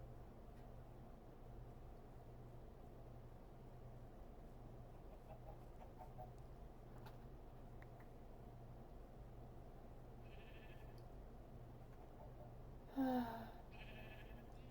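A sheep in a video game bleats once, fairly close, a short burst rising above a quiet steady background hum near the end.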